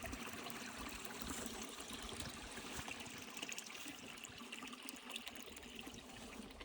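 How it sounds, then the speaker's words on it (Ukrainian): A forest spring of drinking water trickles faintly, a soft continuous watery hiss with small gurgling variations, quiet and steady throughout with no voices. "Пройшовши кілька метрів в ліс, бачу джерело питної води."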